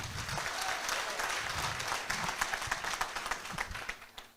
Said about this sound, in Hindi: इनके लिए जोरदार ताली होनी चाहिए भाई।